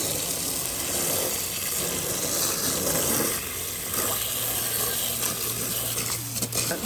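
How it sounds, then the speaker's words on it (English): Garden hose spraying down a Beatbot AquaSense Pro pool robot vacuum, a steady loud hiss of rushing water throughout, close and continuous with no talk. "So let's hose it off."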